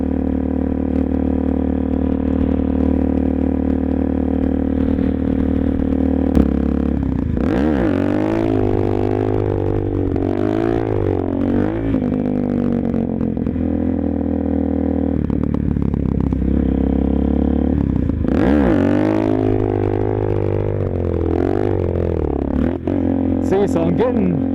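A motorcycle climbs uphill with the rear brake dragging. The engine drones steadily and loudly throughout, with a rising and falling whine and gritty scraping. A rider talks over it at points.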